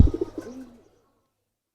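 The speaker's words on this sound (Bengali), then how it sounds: "মাশাআল্লাহ খুব সুন্দর কবুতর" Soft coos of Giribaz pigeons rise briefly at the start, then fade into near silence before a short sound cuts in at the end.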